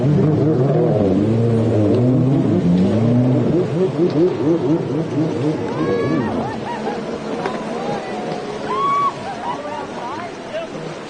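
Four-stroke Superjet class jet skis racing out on Lake Lavon, Texas, with engines revving and wavering loudly across the water under constant crowd babble and commentary.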